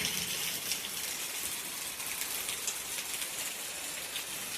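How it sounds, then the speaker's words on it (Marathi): Light rain pattering steadily on a Konkan village yard during a sudden summer shower, an even, soft wash of drops with no voices. "फक्त बारीक बारीक घडघडता"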